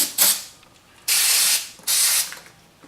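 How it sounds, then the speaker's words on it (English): Spray cleaner is blasted into a rifle's magazine well and bolt release catch, giving three loud hissing bursts, one short and two longer, with quiet gaps between them. "get in there and spray the mag well out, the bolt release catch, all that jazz."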